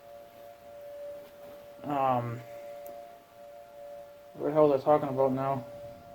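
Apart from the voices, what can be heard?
siren ringing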